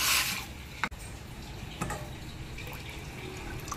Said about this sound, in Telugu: 3 గ్లాసెస్ వాటర్ పోసుకుందాం